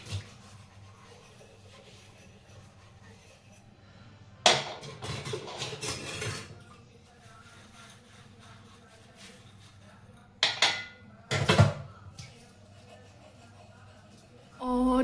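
Dishes, pots and utensils being washed by hand in a home kitchen, with bursts of clattering metal and running water at two or three points, separated by quieter stretches of faint background sound.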